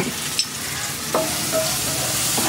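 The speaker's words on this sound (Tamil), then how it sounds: "தக்காளி போட்டு நம்ம நல்லா வதக்கிட்டோம்" Tomatoes frying in a pan as the base of a ground-spice mutton curry, with a steady close sizzle and a few scraping stirs of a spoon.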